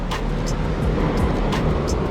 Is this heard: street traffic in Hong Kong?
yes